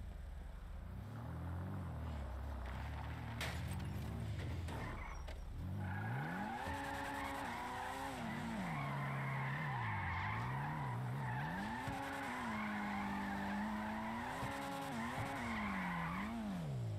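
A motorcycle in a GTA roleplay game, with a loud continuous engine whine rising and falling in pitch and a long tire skid, all steady and close.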